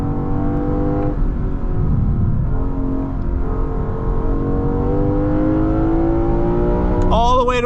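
The 2023 Lexus IS500's V8 revs hard toward its red line, a loud, continuous rising engine roar heard from inside the cabin, pitch climbing steadily before a quick gear-change blip at the end.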